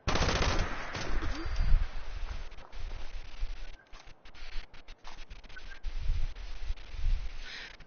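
Rapid bursts of .308 rifle gunfire in the video game Fallout 76, sharp loud cracks in quick clusters with short gaps between volleys, ringing out on their own with no talk.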